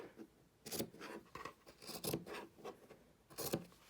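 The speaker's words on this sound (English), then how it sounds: "The fun thing about muslin is you can just cut into it like that." Scissors snipping through muslin fabric in a few crisp, separate cuts, close and fairly loud with brief rubbing of cloth between them.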